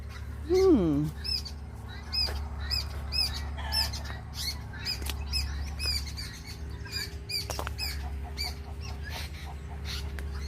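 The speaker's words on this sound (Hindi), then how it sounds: "चिड़ियों की भी पता नहीं किस किस चीज़ की आवाज़ आ रही है।" Many birds squawk and chirp in rapid overlapping calls on a farm, over a steady low hum, with a brief voice early on.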